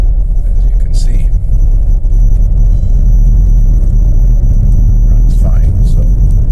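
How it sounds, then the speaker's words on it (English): A 2010 Mercedes-Benz GLK 350 drives along with a steady, loud low engine and road rumble, heard from inside the cabin, with a few brief faint sounds above it. "now we should be able to drive the vehicle without the traction control going mental on me"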